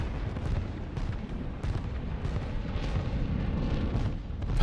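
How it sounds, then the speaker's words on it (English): A barrage of explosions from a hostile cluster mine in Call of Duty MW2, with deep overlapping booms and dense rumbling blasts rolling on continuously, loud and close. "Hostile cluster mine deployed."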